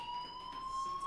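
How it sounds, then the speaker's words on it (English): A fire alarm in a school-themed video game sounds as a steady high electronic tone, continuous and fairly faint, with no talk over it. "Hey, do you hear that fire alarm?"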